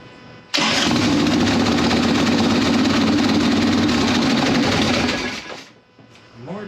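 An Evo Sportster chopper motorcycle engine on choke fires up abruptly and runs loud and steady for about five seconds before sputtering down and fading, with no talk over it.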